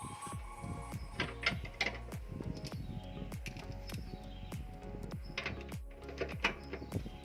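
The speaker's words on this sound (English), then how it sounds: "Retighten the chamber bolts." Rear camber bolts being retightened on a Proton Wira, a steady run of close ratcheting clicks and metallic knocks repeating in a busy rhythm throughout.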